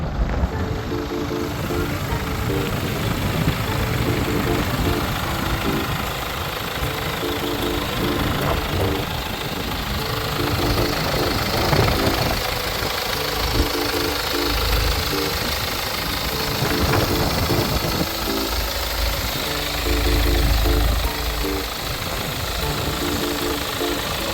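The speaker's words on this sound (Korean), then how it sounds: "자, 엔진을 한번 살펴보겠습니다" A Genesis G80 2.2-litre diesel AWD engine idles steadily with a low, rhythmic knocking rumble, running continuously up close for the whole stretch.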